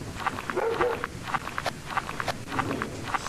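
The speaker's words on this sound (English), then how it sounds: "There's a dog barking, I know that." A dog barks repeatedly in the Slenderman video game, short sharp yaps coming in quick bursts at a moderate distance, over background game noise and footsteps.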